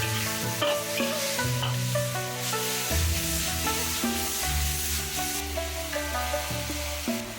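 Oyster mushrooms stir-fried in a hot wok give a steady sizzle with scraping and tossing strokes running throughout, close and fairly loud, with no voices.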